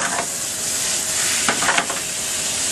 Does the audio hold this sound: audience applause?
no